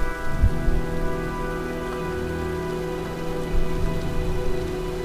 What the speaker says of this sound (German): Tja, sieht nach einem Sturm aus.